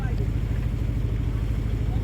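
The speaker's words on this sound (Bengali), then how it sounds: "সাগর পথ ফাঁড়ি দিয়ে স্পিড বোটে" A speedboat crossing the open sea, its motor a steady low drone with water rushing and some wind buffeting, continuous and close throughout.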